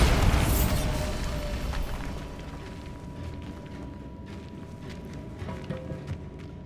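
A Bombarda spell in the Hogwarts Legacy video game sets off a loud, booming explosion at the start, and the rumbling blast then decays into a lingering crackle with scattered debris rattles.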